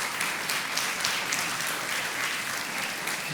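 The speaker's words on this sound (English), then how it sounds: "Give him a round of applause, please." An audience applauds a filmmaker at a fireside chat event about farming, producing a steady, dense wash of clapping that holds at an even level throughout, with no voices over it.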